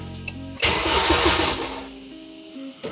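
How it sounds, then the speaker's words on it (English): A Honda K20 engine in an EG car cranks and catches with a loud burst, then settles into a rough idle as the noise gradually fades. "the car does crank"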